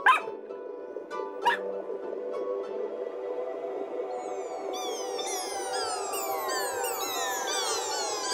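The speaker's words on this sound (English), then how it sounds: "Little dog Fido!" Small dog character in a children's TV show gives two quick yapping barks over sustained musical tones, followed by a stream of chirpy whistling sweeps.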